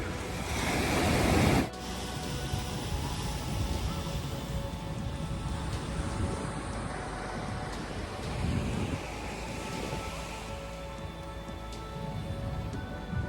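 Waves of the South China Sea breaking on My Khe beach in Da Nang, Vietnam: a loud crash of surf at the start, then a constant rushing roar of surf with wind buffeting the microphone and no voices.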